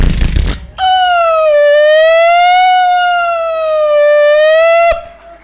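A police siren escorting a VIP convoy sounds a single loud, sustained wailing tone that rises and dips slowly for about four seconds, then cuts off sharply, with no voices over it.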